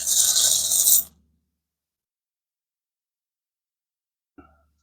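Coins rattle and clatter as they are shaken together in a container, a dense burst of metallic jingling lasting about a second, then silence and one small clink near the end.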